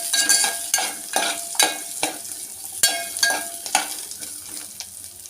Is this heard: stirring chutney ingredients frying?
yes